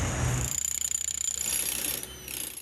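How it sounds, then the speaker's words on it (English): Construction work in downtown Kamloops: a jackhammer pounds in a rapid, continuous stutter at a building site, loud and steady throughout with a brief heavier thump at the start and no voices. "The hammering and drilling has been going on for 3 years in downtown Kamloops."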